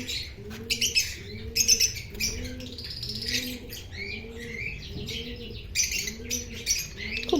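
Lovebird chicks chirp in a steady run of short repeated calls, with soft lower cooing notes and brief high tweets close by, no talking.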